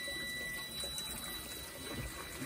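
Tap water runs steadily from a faucet while a fan clutch sits in a pot of boiling water for testing, a constant broadband wash with no voices over it.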